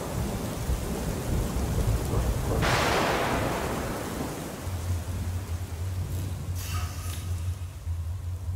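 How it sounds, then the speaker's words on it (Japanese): Thunder rumbles and a heavy crack of thunder bursts through steady rain in the video game FURI, with a low droning tone underneath and no speech. "雷鳴がとどろき雨も降ってる。"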